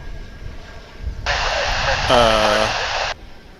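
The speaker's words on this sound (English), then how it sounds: "Korean Airlines cargo flight off to Anchorage" A Korean Air cargo Boeing 747 jet departing Dallas/Fort Worth International Airport, heard as a steady engine rush that swells in, holds with a brief tonal radio-like sound on top, then drops away, while someone talks in the background.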